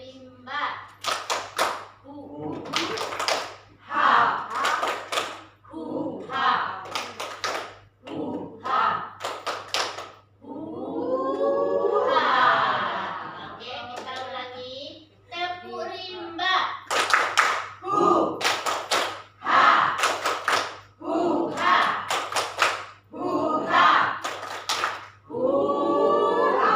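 A group plays the Tepuk rimba clapping game at an indoor facilitation session, with bursts of rhythmic hand claps mixed in with chanted and spoken voices throughout.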